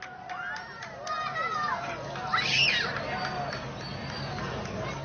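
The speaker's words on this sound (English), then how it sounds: "let's listen to the crowd as this goes into totality" A large outdoor crowd at the 2024 total solar eclipse cheers and shouts as totality arrives, a moderate swelling roar with a few higher screams, while people chatter nearby.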